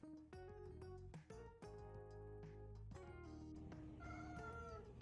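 A new cat meowing close up in a series of several drawn-out, tonal meows, some rising and falling, fairly steady throughout with no talking.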